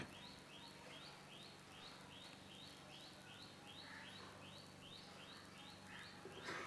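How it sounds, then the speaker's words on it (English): A bird sings a quick, repeated chirping phrase over and over at a steady pace, faint against a constant low hum of background noise. "Listen to the sound of the birds"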